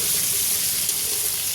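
Green beans and potatoes fry in a pan with a steady, close sizzle, broad hissing crackle holding level throughout with no voices.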